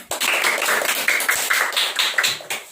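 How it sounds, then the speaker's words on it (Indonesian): A classroom of students gives a short round of applause during a maths lesson, a quick run of sharp, close claps that lasts under three seconds. "Tepuk tangan dulu"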